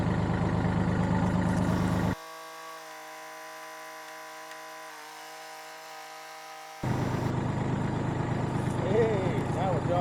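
A tractor engine works in low gear, a loud, steady mechanical drone at the start and end, broken by a quieter middle stretch of sustained tonal hum.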